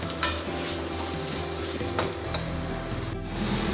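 Potatoes roasting in a pan while being stirred, soft sizzling under scraping stirs and a few light clinks of a spoon against the pan, close, with no talk.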